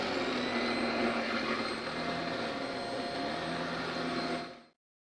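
A handheld mattress vacuum cleaner runs on a mattress with a loud, steady whirring drone that holds for several seconds and then cuts off abruptly.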